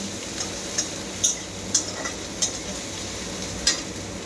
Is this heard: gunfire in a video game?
no